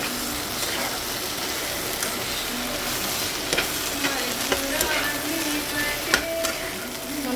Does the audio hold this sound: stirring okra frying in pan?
yes